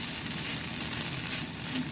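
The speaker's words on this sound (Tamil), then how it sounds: "கடைசியாக கொஞ்சம் கருவேப்பிலை போட்டு வாசனைக்காக" Curry leaves fry and get tossed in a pan of beef liver pepper fry, giving a steady, close crackling sizzle with soft stirring scrapes throughout and no talk.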